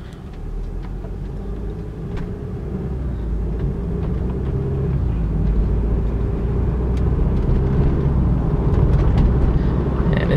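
A 2014 BMW X1 with 85,000 miles cruises on the road in drive, a steady low engine and tyre rumble that swells slightly as it goes, with no talking.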